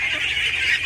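A goose honks continuously and fairly close on a farm, a steady nasal call with no talking.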